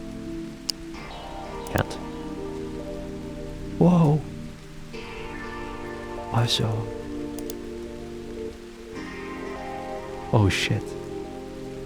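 Steady rain falls throughout in the video game No More Work for Ito, a constant hiss under occasional loud exclamations from a player talking.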